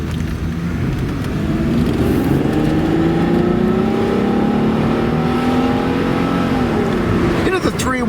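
A 1990-95 Oldsmobile Cutlass Supreme convertible's engine winds out under acceleration, its loud, close drone climbing steadily in pitch, then a quick shift or throttle change near the end.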